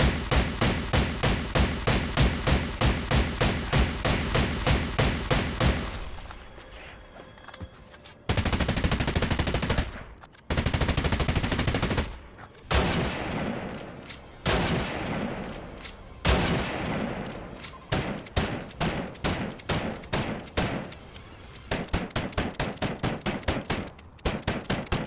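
SPR 12 and Recon Scout guns fire in the video game Darkest Days: rapid bursts of sharp shots in rhythmic volleys, broken by short pauses and spaced single shots, loud and alone.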